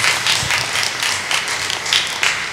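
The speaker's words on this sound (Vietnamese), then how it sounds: "xin cộng đoàn nổ một tràng pháo tay để chúc mừng cho gia đình mới này" A church congregation claps for a newly engaged couple at a ceremony, a steady burst of applause that carries on without pause.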